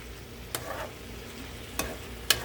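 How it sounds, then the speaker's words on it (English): Soft, steady sizzling of bok choy frying in a hot pan turned up to medium-high, with three sharp clicks or scrapes breaking through at intervals. "Starting to sizzle even more just as I turn up the temperature to medium high."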